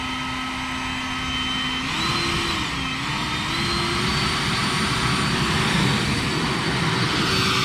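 An EGO Power+ battery-powered 600 CFM backpack leaf blower running on high gives a loud, steady fan whine and airy rush close by; the tone steps up in pitch near the start and holds without voices.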